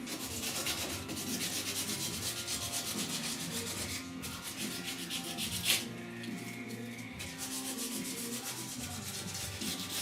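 Block sanding primer-surfacer on the rusty roof of a 1969 Chevrolet C10 pickup, a steady close abrasive rubbing that runs nearly continuously with brief pauses and one sharp tap partway through.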